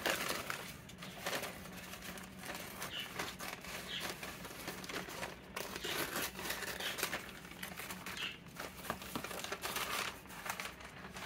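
Thin craft paper being handled and pulled from a roll, giving steady close crinkling and rustling with brief louder crackles throughout.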